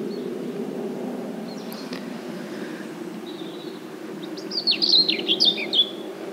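Small birds chirp in a garden in Wales, with faint high calls early on and a brighter, busier burst of tweets near the end over a steady low background rumble.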